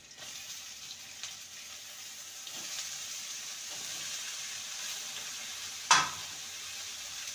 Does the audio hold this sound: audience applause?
no